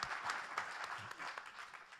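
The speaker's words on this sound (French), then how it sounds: "On peut l'applaudir aussi pour cette réflexion." Brief, faint applause from an audience at a plenary session of a sustainable cities conference, a dense patter of clapping that holds for a moment and then thins, with no talk.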